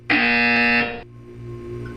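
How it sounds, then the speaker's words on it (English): A loud electronic test-chamber buzzer in the video game Portal 2 sounds once as a steady harsh tone for about a second, then cuts off abruptly over a quiet background hum. "You will hear a buzzer. When you hear the buzzer, look down at the floor."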